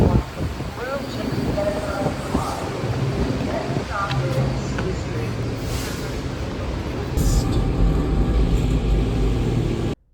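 Riding aboard a DC Metro subway train in the rain: a continuous loud rumble and rattle of the car fills the whole stretch, with scattered knocks and squeals and a surge in the last few seconds before it cuts off.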